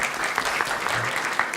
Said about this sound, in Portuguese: não custa nada aplaudi-la outra vez